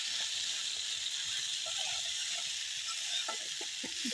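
Food being sautéed and stirred in a pan in a home kitchen: a steady, bright hiss of frying runs throughout, with light scraping and clinks from stirring near the end, and no speech.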